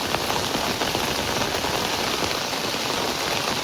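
Steady rain pours down in a village, a dense, even hiss of drops striking surfaces that holds unbroken and loud throughout, with no voices.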